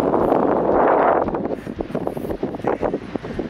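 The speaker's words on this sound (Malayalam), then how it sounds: "ഭയങ്കര കാറ്റ്" Strong coastal wind near the southern tip of Africa roars loudly against the microphone. The buffeting is heaviest at first, then eases into gusty, uneven rumbling.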